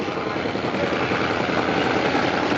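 A Harley-Davidson drag racing motorcycle in the Pro Dragster category at the 1995 All Harley Drags, Kil Kare Dragway, roars loud and unbroken, a dense, steady engine noise that fills the whole stretch.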